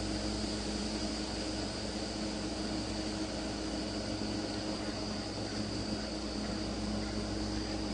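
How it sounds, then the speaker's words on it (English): A drone or aircraft gives off a steady, distant jet-like roar that stays even and unbroken from start to finish, with no voices over it. "We hear it, or we hear the drone. Anyway, a jet-like noise."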